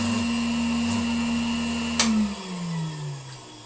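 A restored vintage Bylock table vacuum cleaner runs with a steady motor hum, then its pitch slides lower as it winds down after a sharp click near the end.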